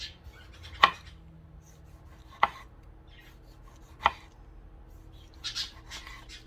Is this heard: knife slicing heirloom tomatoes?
yes